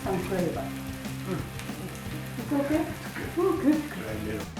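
Meat browning on a hot griddle while making okonomiyaki, with yakisoba noodles nearby: a loud, steady sizzle and crackle of frying up close, with occasional scraping or stirring.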